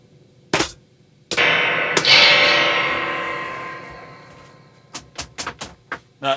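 Kicking a Crazy Tube Circuits White Whale tremolo and reverb pedal sets off a loud, splashy spring reverb tank crash that swells and fades over several seconds, framed by sharp knocks before and a cluster of short thumps after.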